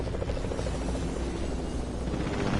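Steady whirring helicopter rotor noise in a video game, synthetic and continuous, fairly loud throughout.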